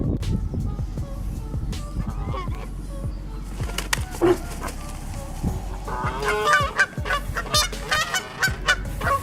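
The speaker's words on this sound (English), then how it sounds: "Raging geese versus cows. These geese were absolutely fueled by pure rage." Geese honking repeatedly in an outdoor confrontation with cows, harsh calls scattered across the clip and growing denser and louder toward the end over steady background noise.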